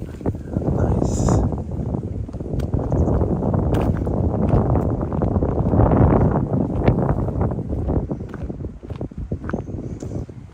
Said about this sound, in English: I think you can hear the wind.